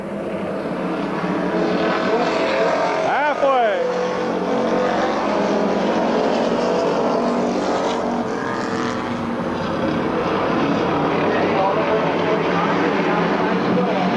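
Race cars roaring around Midvale Speedway, a steady loud engine drone with one car passing nearby, under a race announcer's commentary.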